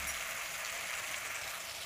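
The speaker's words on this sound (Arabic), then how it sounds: "هننزل بصلاية متقطعة اهي، والثوم هنشوحه بالطريقة دي، ونوطي عليه شوية كده يدبل مع بعض" Chopped onion and garlic sizzle steadily in a pan while cooking lentils, a continuous bright crackle without pauses or talk.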